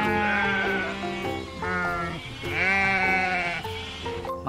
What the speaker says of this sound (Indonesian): Wow, ada kambing betina